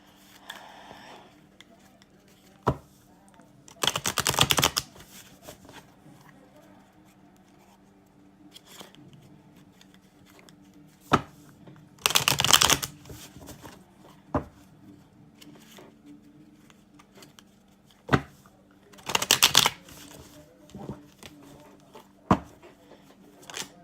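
Tarot cards being shuffled by hand in three short bursts of riffling rustle, close and moderately loud, separated by quiet stretches with a few isolated taps and clicks.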